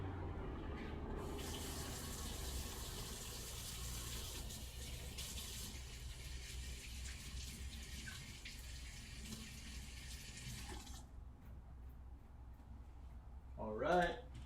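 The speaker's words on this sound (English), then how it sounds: "My hands are all nice and washed." Hands are washed under a running tap in a home kitchen: a continuous, fairly close gush of water for about eleven seconds, then it stops and a brief clatter follows.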